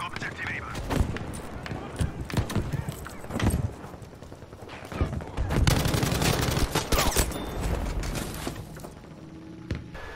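An M1919A6 machine gun fires in Battlefield V, with dense bursts of automatic gunfire and explosions mixed into a loud, chaotic battlefield soundscape, along with galloping hooves and speech in the background.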